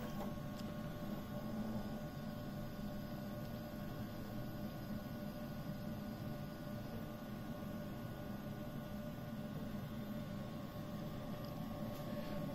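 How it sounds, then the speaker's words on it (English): Mimaki UJF 3042 MKII UV flatbed printer running its cleaning cycle, a faint steady mechanical hum and whir with a constant tonal drone, unchanging throughout and without voices. "you'll start to hear the actual printer cleaning off."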